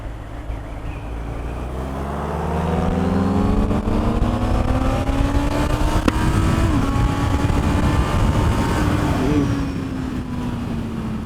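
A Honda motorcycle with E-Clutch in a drag race against another bike, engines revving up through the gears with rising whine and growl, loud and close with wind rush as speed builds.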